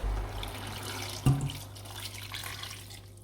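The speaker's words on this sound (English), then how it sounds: "I'm gonna add some water into this to get this cooked very well" Water poured into a pot of okra stew with meat, a brief splashing rush with a soft thump partway through, then a steady trickle.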